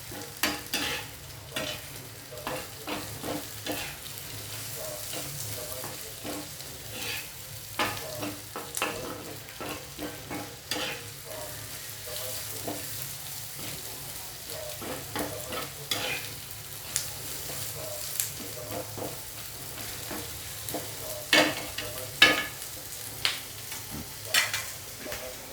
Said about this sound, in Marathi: कांदा चांगला गोल्डन ब्राऊन होईपर्यंत